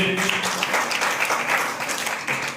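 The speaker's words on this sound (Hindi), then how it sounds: "ताली बजाइए प्रभु की महिमा के लिए।" A church congregation claps together in praise during a Hindi-language Christian service, a dense, continuous burst of applause filling the room for a couple of seconds.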